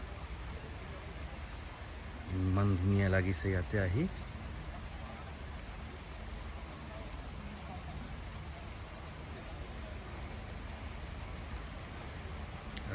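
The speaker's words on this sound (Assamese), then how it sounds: "বহুত বৰষুণ হৈ আছে এতিয়া" Steady morning rain falls on a homestay resort, a continuous soft hiss running through the whole scene while a person speaks briefly near the start.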